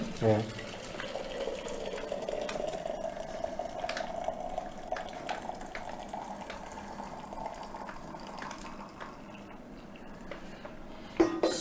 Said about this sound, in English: I pour in my hot water.